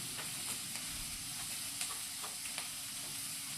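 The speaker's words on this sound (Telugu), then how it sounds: "ఈ ఆనియన్స్ కూడా బాగా మగ్గినట్లు ఫ్రై చేసుకోవాలండి." Chopped onions fry and sizzle in a pan for a tomato onion curry, a steady close hiss of frying with light intermittent stirring taps, alone and fairly soft.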